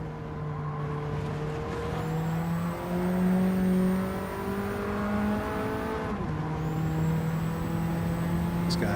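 A Cosworth race car engine in Gran Turismo 7 hums steadily at mid revs, climbing gradually through gears with a brief drop at a shift, smooth and sustained at moderate volume.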